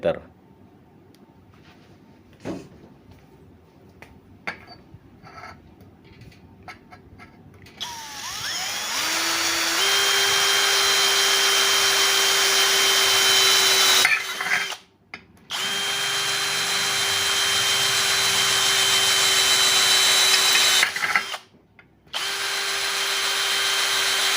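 A 4 mm Ingco drill bit bores through 0.8 mm thick hollow steel tubing, a loud steady power-drill whine running for long stretches with two short pauses as the bit breaks through, quieter handling and brief talk before it starts.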